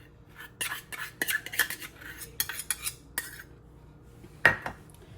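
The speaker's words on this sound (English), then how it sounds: "We're going to mix the sauce and then divide it in half." A utensil stirs sauce ingredients in a bowl, among them Dijon mustard, Worcestershire, brown allulose and apple cider vinegar. Sharp clinks and scrapes come in irregular bursts, close and clear, with quiet gaps between strokes.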